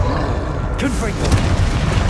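A single Confringo blasting-spell explosion from Hogwarts Legacy, a short deep boom with a crackling burst, layered over continuous game background sound.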